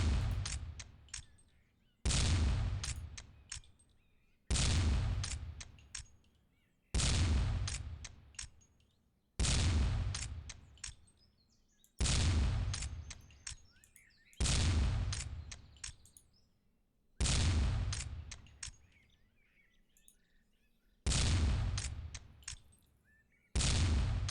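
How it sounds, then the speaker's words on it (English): Shotgun blasts in a skeet shooting video game tournament: about ten loud, sharp shots spaced a couple of seconds apart, each with a short decaying tail and no voices. "Terox seems to be going just risky all the freaking time, and also hitting a lot of his shots"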